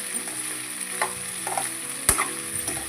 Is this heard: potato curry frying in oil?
yes